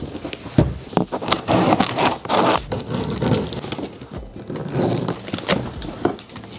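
Packaging of a ZitA automatic trash can being opened: cardboard scraping, rustling and crinkling of wrap, with irregular handling noises close up and no speech.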